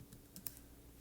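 Quiet, close computer keyboard typing while entering trial numbers into a spreadsheet, a few soft key clicks within about a second, faint and without talk.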